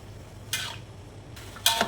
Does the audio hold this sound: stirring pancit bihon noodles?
yes